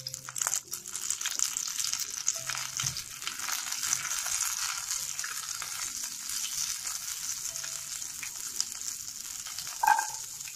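Curry leaves frying in hot oil in a pan with dried red chillies for a tomato chutney, a steady, fairly loud crackling sizzle with brief louder pops that runs continuously, with no voices.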